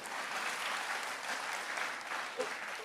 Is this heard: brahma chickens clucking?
no